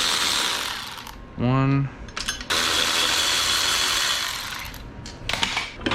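Rapid ratchet clicks from a socket wrench loosening car seat bolts during a Viper seat lowering kit install, a short burst of evenly spaced ticks, loud and close, with shuffling and handling noises before and after and a brief spoken word.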